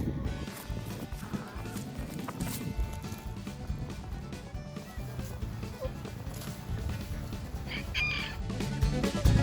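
Chickens cluck and fuss nearby amid shuffling and scratching noises, with an occasional louder squawk toward the end.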